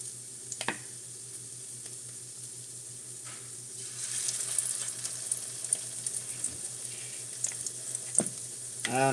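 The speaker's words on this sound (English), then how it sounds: "You see it frying?" Crackling bread frying in a pan on a stove eye, a soft steady sizzle that grows busier midway, with occasional utensil clicks and stirring sounds.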